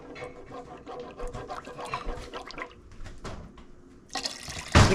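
Water poured into a pot of tomato soup made from tomato paste, a steady splashing, trickling stream with a louder gush near the end, heard close up without talk.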